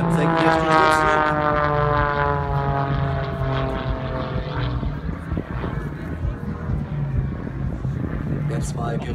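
Aerobatic propeller plane performing vertical climbing rolls at the 2017 Erfurt airport festival, a loud droning engine whose pitch sweeps and shifts as it climbs and rolls, with an announcer commenting over it.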